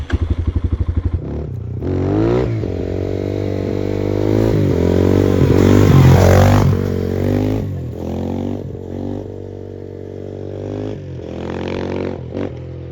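A motorcycle engine revs hard and holds high RPM while the rider lifts into a wheelie in third gear, loud and close throughout, with harmonic engine tone rising and falling and a sharp burst of revving at the start.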